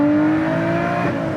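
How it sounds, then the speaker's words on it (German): Lotus Exige 430 Cup Final Edition engine screaming under hard acceleration, a loud, steady high-revving wail held close throughout with no talk. "Bis 7000 Touren drin das Ding, wie das Ding schreit."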